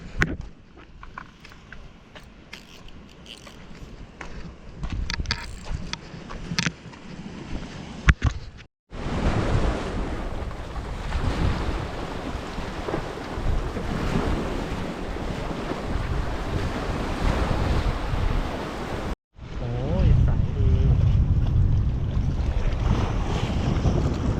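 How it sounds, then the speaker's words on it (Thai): Sea waves and gusting wind on the shore of Ko Sichang island in Thailand, loud and close, with heavy wind buffeting across the microphone and continuous surf, split by two brief cuts. "ฝั่งนี้คลื่นก็จะน้อยหน่อยฝั่งนี้น้ำลมก็จะตึงหน่อย"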